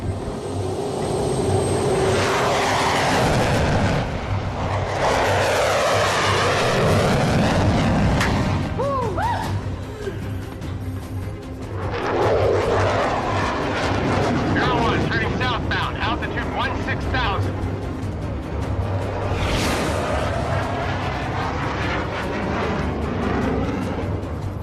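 Roaring aircraft engines swell loudly in a film scene, a heavy sustained rumble with deep booms rising, dipping briefly near the middle, then surging again.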